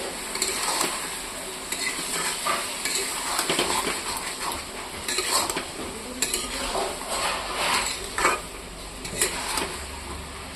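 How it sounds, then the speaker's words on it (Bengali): Spice paste being sautéed with chicken in a pan for chicken curry, steady frying sizzle under repeated scraping and clattering strokes of a spatula, close and continuous. "মাংসর সঙ্গে কষাবো এটাকে।"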